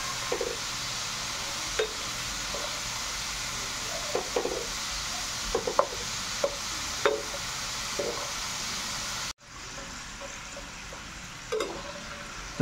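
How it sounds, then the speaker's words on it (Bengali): Nimki fry in a wok of oil with a steady, close bubbling hiss and occasional light stirring taps. The sizzle briefly drops out partway through, then resumes. "আস্তে আস্তে এটাকে ভেজে নেব"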